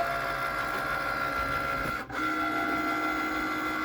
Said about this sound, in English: And what it's doing is feeding the mat into the Cricut to prepare it to cut.